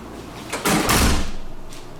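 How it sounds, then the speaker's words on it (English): A hotel room door swings and slams shut, a loud close thud with a sharp bang, followed by a brief rattle as it settles, and no speech. "that door slams"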